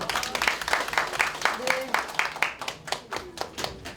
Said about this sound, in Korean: 제주도민과 유성건 위원장님께 다시 한번 뜨거운 박수 부탁드립니다